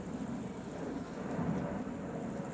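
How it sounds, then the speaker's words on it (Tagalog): An airplane passing overhead at a campsite in Montalban, Rizal, heard as a broad, steady rumbling drone that swells slightly midway, distant and continuous, with no speech. "Yung tunog ng eroplano."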